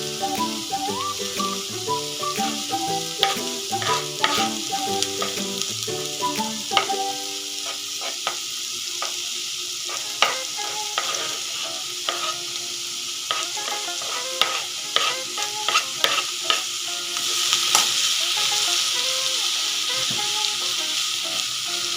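Onions and spring onions sautéing in hot oil with capsicum for paneer momo stuffing, a continuous close sizzle broken by frequent scraping and clinking of a spatula stirring the pan.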